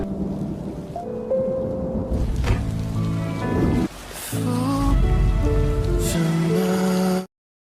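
Heavy rain pours down steadily with rumbles of thunder, loud and continuous before it cuts off abruptly near the end.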